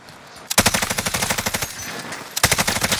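Automatic gunfire in the Warzone video game on Rebirth Island. Two rapid bursts of sharp, evenly spaced shots, the first long and the second shorter after a brief pause, loud and close.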